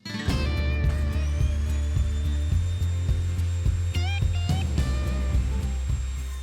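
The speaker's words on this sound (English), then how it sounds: "setting up a power tool to make repeat cuts in exactly the right place" A power router cutting wooden tenons whines steadily with a strong hum, cutting in repeated bursts with scraping and clicking sounds layered over the motor drone.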